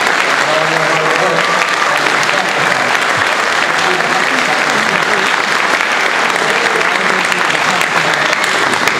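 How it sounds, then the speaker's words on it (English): A graduation audience at RichmondBUILD's Green Careers Academy gives the graduates a loud, sustained round of applause, dense clapping with a few voices mixed in, close and continuous the whole time. "I want to give a big round of applause to the graduates"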